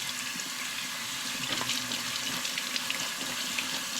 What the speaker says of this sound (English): I just ran it off with cold water a little bit